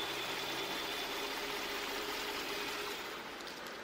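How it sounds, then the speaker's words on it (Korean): A Hyundai Equus 3.8 GDI engine idles smoothly and quietly, a steady low hum with an even hiss and no other sounds. "엔진 소음 먼저 들려드리면은"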